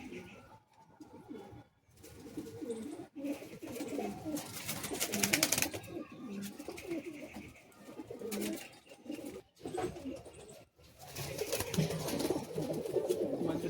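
Many pigeons coo continuously inside a Bagnan loft, layered rolling calls overlapping for over ten seconds with occasional brief pauses and wing or scuffle noises, close and fairly loud.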